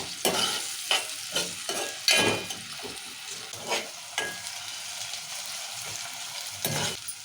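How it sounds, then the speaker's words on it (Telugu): Chopped onions fry in hot oil for a ridge gourd curry, with steady sizzling broken by repeated scraping stirs of a spoon in the pan, close and fairly loud. "ఇక నూనె వేడైంది ఇప్పుడు ఉల్లిగడ్డ వేసుకుందాము ఇలా కలుపుకోవాలి"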